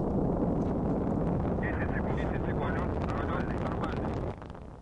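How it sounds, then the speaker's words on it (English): ILS Proton rocket lifting off from Baikonur Cosmodrome in Kazakhstan carrying the KA-SAT satellite: a dense, distant roar with a continuous wind-buffeted rumble that holds steady and then drops off sharply near the end. "we have liftoff of an ILS Proton rocket from the Baikonur Cosmodrome in Kazakhstan"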